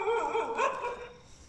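Dogs barking at night in a village, a few close, tonal yelping barks in quick succession that trail off, with no talking.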